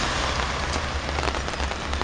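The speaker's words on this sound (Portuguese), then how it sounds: "e está a chover" Steady rain falls outdoors in a dense, continuous hiss of drops pattering on surfaces, loud and close with no pauses and no voices.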